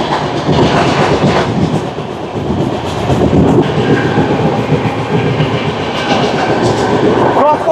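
Shatabdi Express on the New Jalpaiguri to Howrah run, heard from inside a Vistadome coach as it speeds through Chatra station without stopping: loud continuous rumble with rhythmic wheel clatter, close and steady.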